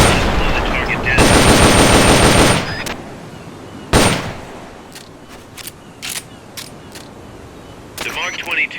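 Gunfire from the Metal Gear Solid: Portable Ops video game: a long sustained burst of automatic fire, then a single sharp shot, then a string of short, crisp shots, with a brief noise at the end.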